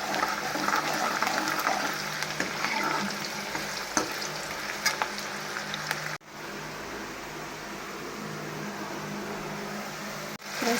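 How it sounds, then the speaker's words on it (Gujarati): Chopped onions sautéing in a pan, a steady close sizzle and crackle of frying with occasional stirring scrapes, continuous and moderately loud, with a brief break partway through. "પછી આપણે સમારેલી પ્યાજ, લાલ થઈ જાય ત્યાં સુધી આપણે સાતળવા દઈશું."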